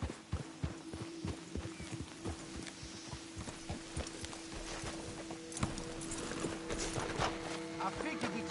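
Horse hooves clip-clop along in Red Dead Redemption 2, a steady loud rhythmic plodding with a low hum beneath and voices talking over it.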